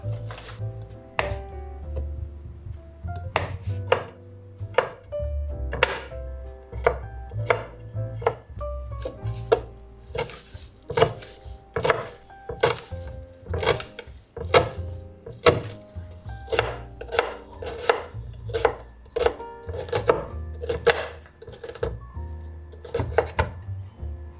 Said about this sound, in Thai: เรามีแป้งต๊อกเหลือเดี๋ยวเราหั่นแป้งต๊อกเพิ่มดีกว่า